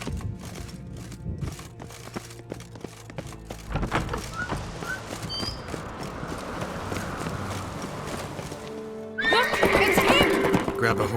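Horse neighing and clip-clopping hooves from The Witcher 3: Wild Hunt, with a loud whinny and trotting steps building near the end over game music and spoken dialogue.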